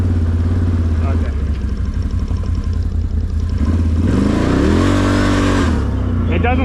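Can-Am Renegade 1000 ATV engine revving in high range, a loud close throaty roar that climbs gradually and falls back, with a voice speaking over the engine.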